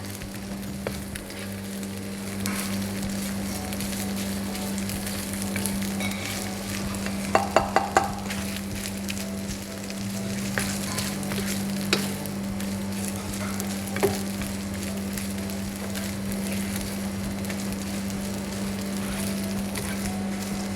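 Minced meat sizzles and crackles in a pan of Thai roasted shrimp paste while being stirred and broken up quickly, a steady frying hiss with sharp scraping clicks of the utensil against the pan.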